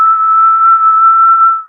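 An eerie, high steady whistle holds one sustained pitch for under two seconds at close, loud level, then fades out at the end with no voices.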